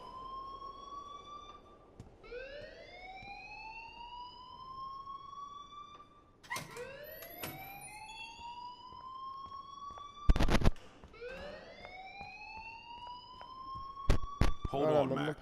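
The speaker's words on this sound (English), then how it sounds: "please turn off that alarm since that's your job" A wailing alarm siren in the Life Is Strange video game, repeated rising sweeps blaring over and over, loud and electronic, with a few sharp bangs in between.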